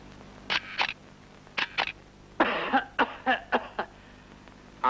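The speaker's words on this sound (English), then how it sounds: "I've got a bad cough." A person coughing, several short dry bursts in quick succession with brief pauses between them, close and fairly loud against a quiet background.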